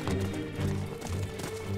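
Horse hooves clip-clop in a steady rhythm as a captive prince rides out in medieval England, close and loud under a low rumbling background.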